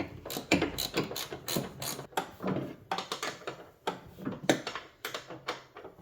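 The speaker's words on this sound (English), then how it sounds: "loosen these 3 nuts that are on the top" A ratchet wrench loosens the three upper strut mount nuts on a 2005-2009 Hyundai Tucson during front strut replacement, giving repeated close clicking pulls in an uneven rhythm.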